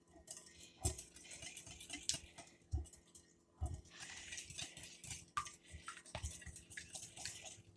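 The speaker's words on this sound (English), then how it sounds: "I'm just whisking them together." Whisk clinking against a deep bowl while blending spices, irregular light metallic taps and scrapes, fairly close and faint, with no talking.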